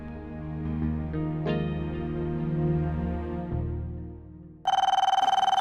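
A phone rings with a melodic ringtone that plays on, then switches to a louder, sharper repeating ring near the end.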